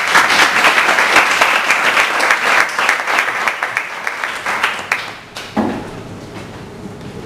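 Loud applause from the audience at a tech meetup, dense hand clapping that thins out and fades toward the end, dropping to a few scattered claps and room noise.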